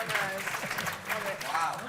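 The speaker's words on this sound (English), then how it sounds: "Seems like a strange thing to be applauding." An audience claps in a live panel event, the applause a brief burst of scattered hand claps under and between overlapping talking voices.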